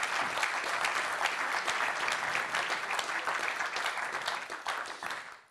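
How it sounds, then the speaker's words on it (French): Conference audience applauding presenters at a regional green-savings event, sustained even clapping from a room full of people that dips and fades out right at the end. "on peut vous applaudir"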